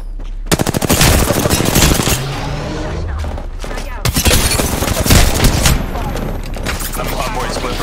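Rapid automatic gunfire from the video game Apex Legends, loud, dense bursts of close shots with a short pause near two seconds, mixed with game effects and a voice talking over it.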